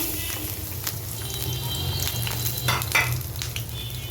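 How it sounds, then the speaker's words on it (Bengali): Chopped garlic frying in hot oil in a pan, a steady close sizzle with faint scrapes of stirring and no one speaking. "রসুনগুলোকে গোল্ডেন ব্রাউন কালার করে ভেজে নিব।"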